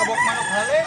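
A Sweater-bloodline fighting rooster in Cebu province crows and clucks in a loud, close, continuous burst with wavering tones.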